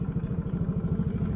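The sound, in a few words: motorcycle engine idling smoothly, Takayama cylinder block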